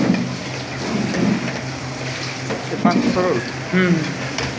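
Mushrooms frying in hot mustard oil, a continuous crackling sizzle with bursts of spitting, close and fairly loud under someone talking.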